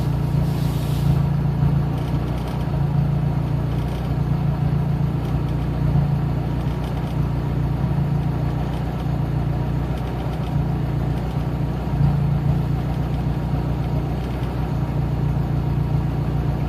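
A car engine managed by Megasquirt idles steadily just after starting, a continuous low rumble with a faint regular pulse that stays close and even throughout, with no voices over it.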